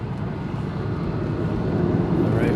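Airplane taxiing and then lifting off, a steady loud rumble of engine and airframe noise filling the whole stretch without a break.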